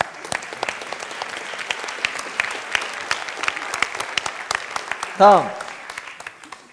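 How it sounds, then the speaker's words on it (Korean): Audience at a self-help talk breaks into loud, dense applause that carries on steadily, with a voice speaking over it and a brief louder vocal burst near the end. "Let's have a big round of applause."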